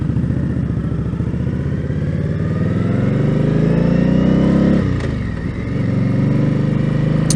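Indian Scout Bobber motorcycle engine while riding, a loud steady V-twin drone rising in pitch, briefly dropping as if shifting gear, then pulling again.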